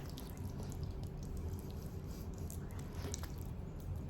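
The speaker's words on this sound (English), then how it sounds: "first I'm actually going to emulsify it with some water." Face cleanser being worked into a lather with water on skin, giving soft, steady wet squishing and dripping sounds throughout, close and continuous with no talking.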